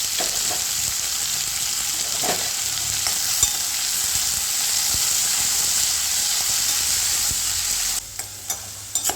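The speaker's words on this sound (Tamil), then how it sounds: "இப்போ நல்லெண்ணெய் போட்டுட்டு பிரண்டையே நல்லெண்ணெயிலே வதக்கணும்." Pirandai (adamant creeper) sautéing in sesame oil in a pan, giving a steady close sizzle and hiss with a few scraping stirs, briefly quieter near the end.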